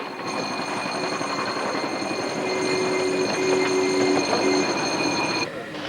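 A 7¼-inch gauge miniature steam locomotive runs steadily nearby, a continuous rumbling chug with high whistling tones and squealing wheels, fading slightly at the end.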